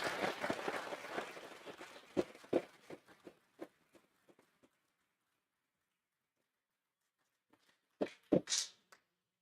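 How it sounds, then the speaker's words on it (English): Scattered applause at a governing board meeting that thins into a few isolated claps, then silence, followed by a couple of final louder claps. "let's give another round of applause to this group"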